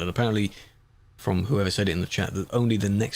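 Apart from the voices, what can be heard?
No everyday noises stand out.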